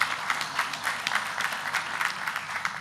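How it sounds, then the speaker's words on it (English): Steady applause from an audience at a formal inauguration ceremony for new chief executive officers of a federal ministry, a dense even patter of many hands clapping at moderate distance. "I thought we were going to clap."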